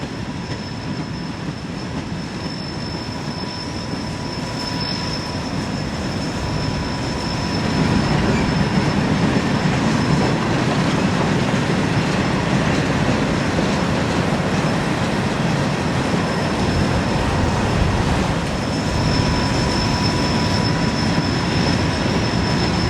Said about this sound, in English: A short time later, a BNSF freight came through on the same track.